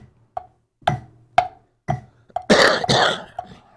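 Several short dry coughs and throat-clearing bursts from a drummer during practice, spaced roughly half a second apart, ending in a longer rough double cough, close and loud against near silence.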